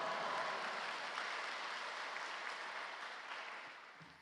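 A large congregation at Yoido Full Gospel Church gives a missionary a warm welcome with dense, sustained applause, a smooth wash of clapping that slowly fades toward the end.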